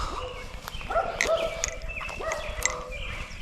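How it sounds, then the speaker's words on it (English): A neighbor's dog barks at a distance outdoors, a few sharp yips and barks scattered through steady background noise. "Sorry about the neighbor's dog. They can see me and they're barking."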